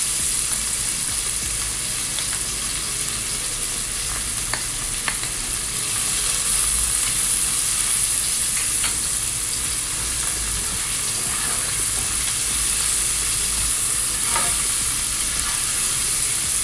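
Garlic sizzling and frying in a pan while being stirred, a steady close sizzle with occasional scrapes and clinks throughout, for a chicken and rice dish.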